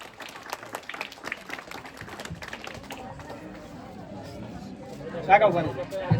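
An audience claps at a New Year prize-giving event, a patter of scattered hand claps under continuous speech and crowd chatter, followed by a louder swell.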